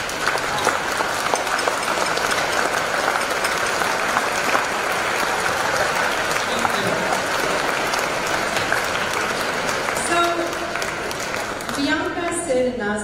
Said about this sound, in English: will the seniors please stand so we can just give you a round of applause?